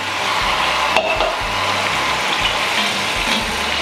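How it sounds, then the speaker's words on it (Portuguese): Steady, loud sizzling and crackling of pork leg frying in a pot, with occasional clinks of a utensil against the pan. "Pra fritar as laterais."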